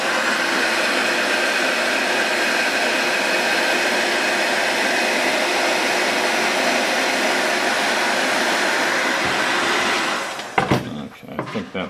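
A heat gun blows hot air onto a PVC segment to soften it for shaping, a steady loud broadband whoosh lasting about ten seconds before cutting off abruptly, leaving a few brief handling sounds.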